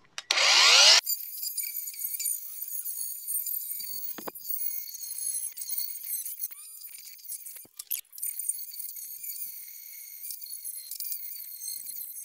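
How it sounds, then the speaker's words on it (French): A 60-grit polishing disc grinds car body sheet metal down to bare steel on a Renault Super 5, a loud shrill whine in a brief opening burst, then a steady high-pitched grinding with several short louder scrapes. "Disque à polir, grain 60 pour nettoyer les bords et mettre à nu la tôle"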